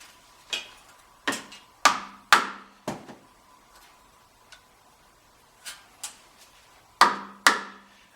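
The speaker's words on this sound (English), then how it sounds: "I'll just keep tapping it in until everything lines up nice and square" Metal pulley on a Monarch lathe being tapped into alignment, about ten sharp, close hammer knocks in an uneven rhythm, some paired, with short ringing decays and quiet gaps between.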